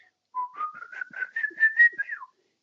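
A person whistles an imitation of the recognizable call of a legendary wandering figure from folklore, a clear rising melodic phrase of short linked notes, close and alone.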